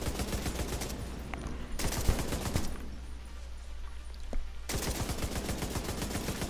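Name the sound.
LMG gunfire in video game The Division 2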